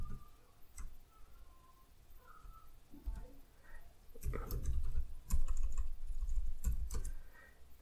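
Keys on a computer keyboard are pressed in short, scattered clicks, first sparse and light, then a denser run of louder taps, close up and quiet with no talk.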